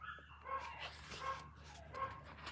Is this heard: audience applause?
no